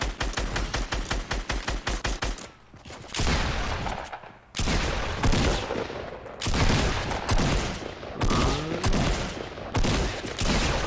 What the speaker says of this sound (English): Oh my god, I love headshots with the pump.